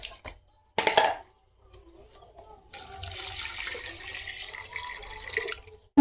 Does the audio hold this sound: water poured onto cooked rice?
yes